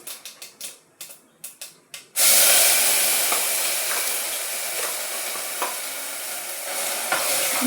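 Misal masala sautés in a pan. A run of sharp ticking clicks comes first, then a loud sizzle bursts in and holds steady, with a few scrapes of stirring.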